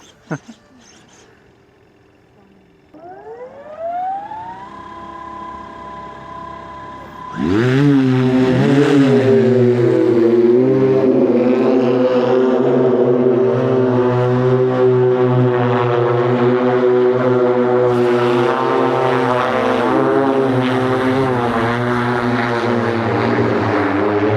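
A Pivotal Helix flying car, a giant passenger drone, spins up and lifts off outdoors: a thin rising whine, then a loud, steady buzzing roar of many rotors that holds close and strong for the rest of the run.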